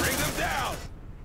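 Gunfire in the video game Aliens: Dark Descent: a dense, close burst of rapid shots lasting under a second, partly mixed with a voice, then cut off to quiet.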